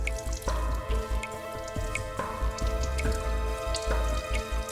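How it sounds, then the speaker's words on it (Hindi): Water drips steadily from a leak, each drop landing close and distinct in an irregular rhythm over a low background hum, with no voices. "यहां से पानी टपक रहा है"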